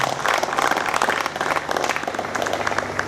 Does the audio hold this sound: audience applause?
yes